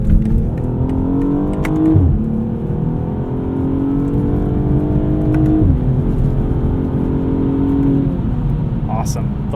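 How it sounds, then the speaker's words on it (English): A BMW 840i xDrive Gran Coupe accelerates hard in Sport Plus mode, its engine climbing in pitch before quick gear shifts drop it back, heard from inside the cabin under steady road noise. "Once you do put it into the Sport transmission mode in Sport Plus, you get super fast shifts"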